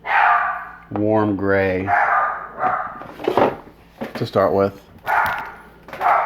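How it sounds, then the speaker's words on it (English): A dog barks a few times in the background of a room while a person speaks steadily over it. "Sorry about the dog in the background."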